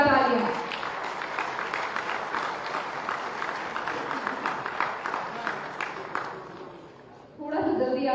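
Applause at a security leadership summit award ceremony in India, a crowd clapping steadily and loudly for an award recipient before the sound briefly dips and a voice speaks at the end.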